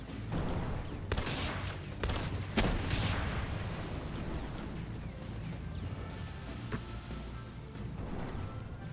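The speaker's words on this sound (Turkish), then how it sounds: "roket atıyor ya oğlum" Rocket fire and explosions in the video game Palworld, a dense, continuous barrage of booms and blasts with sharp louder hits near 1, 2.5 and 6.7 seconds and faint voices underneath.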